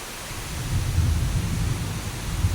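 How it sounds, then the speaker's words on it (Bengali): Heavy rain pours outside a balcony under a dark, overcast sky, a steady dense roar of close, loud downpour with a deep rumbling undertone and no voices. "এই যে কত জোরে বৃষ্টি, দেখো বৃষ্টির জন্য কিছুই দেখা যাচ্ছে না"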